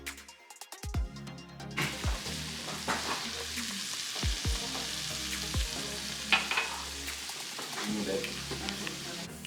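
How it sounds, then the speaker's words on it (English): White chicken chili cooking in a pot on high heat, a steady close sizzle and bubbling with occasional spoon scrapes and knocks against the pot, running throughout without talk. "I'm gonna crank up the heat, and just kind of let some of that liquid cook out."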